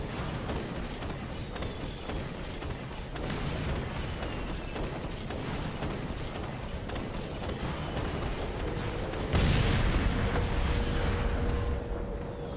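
Explosions in the video game Assassin's Creed Syndicate: a dense, continuous roar of blasts and rumble, with a louder burst hitting near the end.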